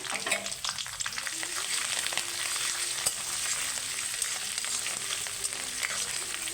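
Onion, curry leaves and ginger fry in a pan with a steady, close sizzle and crackle, broken by occasional stirring scrapes, and no voices.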